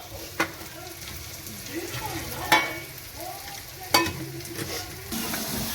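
Garlic, coriander, cumin and chili sizzle in hot oil for a tempering while a spoon stirs the pan, with a steady frying hiss broken by a few sharp metallic clinks.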